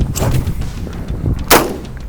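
A single loud, sharp shotgun blast at a sporting clays range, the gun fitted with a Swampfox Justice II optic. The shot booms close up and tails off quickly.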